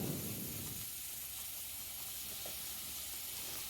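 Ginger and garlic sautéing in a pan for goat curry give a soft, steady hiss of frying, with a slightly louder sizzle at the start before settling into a faint, even background crackle.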